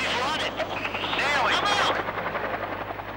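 A military attack helicopter's rotor chop and turbine whine swell and pass overhead, loud and continuous, mixed with a low rumble and faint voices.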